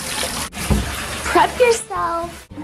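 Tap water runs for a cat's bath, a steady broadband rush heard close under a child's and adult's talking, with a brief high squeak near the end.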